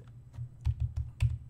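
A keyboard shortcut is tapped on a computer keyboard in a Debian desktop, a quick, soft cluster of several close key presses with faint clicks, no talking.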